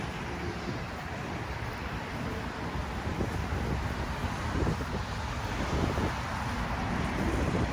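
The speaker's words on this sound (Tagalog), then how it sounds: "Malakas ang hangin pero mainit din yung hangin niya" Strong, hot wind roars steadily against the microphone, a broad, constant rushing that swells slightly in gusts without pause.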